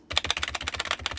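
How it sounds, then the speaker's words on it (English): Quick run of close, crisp key presses on the right arrow key of an otherwise quiet computer keyboard, each click fairly loud and sharp in a fast, even rhythm, with nobody talking. "But if I press the right arrow key"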